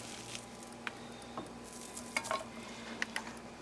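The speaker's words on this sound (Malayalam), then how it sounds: "ഒരു പാൻ ഓൺ ചെയ്തിട്ട് നമ്മുടെ ബോളി മിക്സിയിലിട്ട് അടിച്ചതില്ലേ അതിട്ട് കൊടുക്കുക" A ground boli mixture hits a hot pan and is stirred for Trivandrum-style boli, giving a faint sizzle under scattered spatula scrapes and light clinks of utensil on metal, with no voices.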